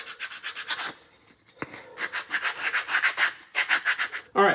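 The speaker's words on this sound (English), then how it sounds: "We're gonna do just a little bit of shaping with the Shinto." A Shinto rasp shapes a wooden axe handle with quick rhythmic rasping strokes, close and clear, in several rapid bursts separated by short pauses.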